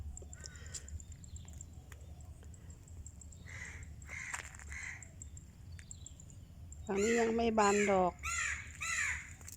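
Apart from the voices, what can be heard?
crow cawing loudly in morning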